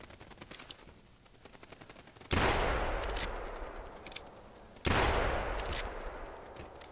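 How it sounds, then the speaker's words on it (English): Two loud rifle gunshots ring out in the hunting video game theHunter Classic, each a sharp blast with a long rolling echo, spaced a few seconds apart over quiet ambient outdoor noise. "That's a beautiful sounding gun."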